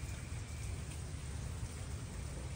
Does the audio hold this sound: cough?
no